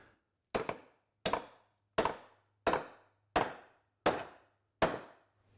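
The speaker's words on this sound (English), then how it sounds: "I'm going to take a hammer and drive it right through" Seven sharp hammer blows drive a fastener through wood on a boat-building project, striking at a steady, even pace, each ringing briefly before fading, close by with no talking.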